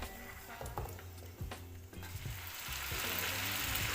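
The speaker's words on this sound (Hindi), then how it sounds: "और थोड़ा सा भूनना है।" Chicken nihari spice masala frying in a pot, a low bubbling sizzle broken by repeated scraping stirs, the frying hiss rising louder toward the end.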